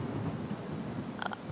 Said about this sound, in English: I hate thunderstorms.